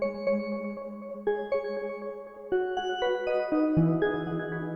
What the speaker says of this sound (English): Let's go into Omnisphere here and pick something kind of nice, something bells maybe, something easy to listen to.